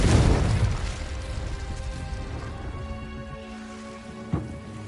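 Confringo blasting spell in the Hogwarts Legacy video game, heard as a dense rumbling boom at the start that decays into a crackling, rain-like wash with a small pop near the end.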